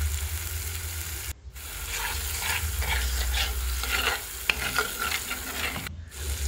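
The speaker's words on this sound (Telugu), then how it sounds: "తర్వాత ఆనియన్ పేస్ట్ కూడా ఇలా ఫ్రై అయిపోయిన తర్వాత 1 స్పూన్ అల్లం వెల్లుల్లి పేస్ట్ కూడా వేసుకొని" Onion paste and ginger garlic paste frying in oil for village-style mutton with tamarind leaves, a continuous close sizzle and scraping stirs, with two brief cut-outs to near silence.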